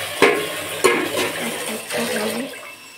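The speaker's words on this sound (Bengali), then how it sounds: "বটিটা ধুয়ে নিব" Tap water runs and splashes while a boti, a curved floor-mounted blade, is washed, with a couple of sharp metallic knocks and a continuous close rush of water.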